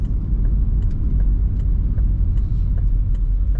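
A 2012 Chevrolet Corvette Grand Sport convertible with an automatic transmission cruises on a highway, giving a steady, close low engine and road rumble with faint ticks over the top and no one speaking.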